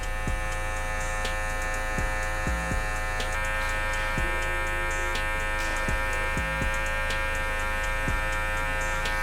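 An electric hair trimmer buzzes steadily and loudly up close while blending a low burst fade, its motor tone shifting as the blade works against the scalp, with brief clicks and no talking.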